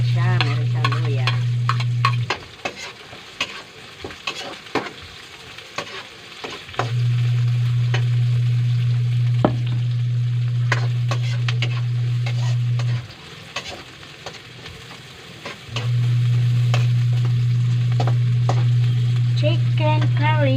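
Chicken curry with ginger and pre-boiled chicken cooking in a pan, loud continuous sizzling and stirring scrapes, with a steady low hum that cuts in and out in long stretches.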